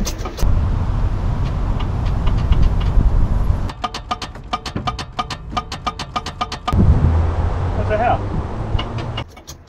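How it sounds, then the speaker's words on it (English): A 1994 Trans Am's starter cranks in a labored, rapid rhythm for about three seconds, set between louder stretches of steady low mechanical rumble nearby. "Well, the starter is angry."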